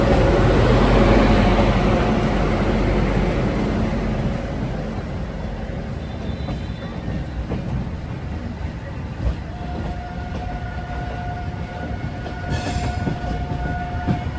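The Barauni to Jaynagar Express sleeper class train rolls along with a loud, steady rumble and rattle of wheels and carriages, a faint horn-like tone briefly near the end and no clear talking.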